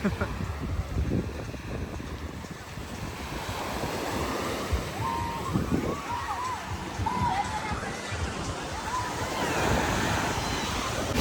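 Rough sea waves surge onto the shore in Greece. The loud, continuous wash and hiss carries wind buffeting the microphone throughout.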